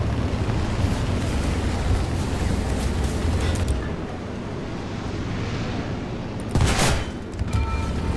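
Tank gunfire and combat in the War Thunder video game, with dense continuous rumbling battle noise, a louder sharp blast near the end, heard alone without talk.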